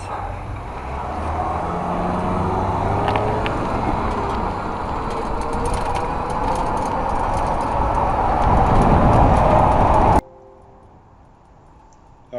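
A 1000W e-bike runs at top speed on flat ground, giving a loud, steady rush of wind and motor noise that swells slightly before cutting off abruptly near the end.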